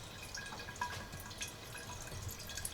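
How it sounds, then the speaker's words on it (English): Moonshine drips from a homemade reflux still during a spirit run, faint quick droplets falling steadily in an irregular pattern over a low background hum. "first drips out of the still."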